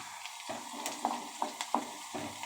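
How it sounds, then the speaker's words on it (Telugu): Cumin, urad dal, chana dal and mustard seeds fry in hot oil as a tempering, giving a soft, steady sizzle with a few light pops and stirring scrapes, close and fairly quiet, with no voices. "వీటన్నిటిని చక్కగా గోల్డెన్ కలర్ వచ్చేంత వరకు ఫ్రై చేసుకోవాలి"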